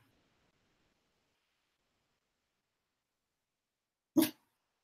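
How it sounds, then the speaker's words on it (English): A single short dog bark rings out close by after several seconds of near silence. "You got one more bark in you."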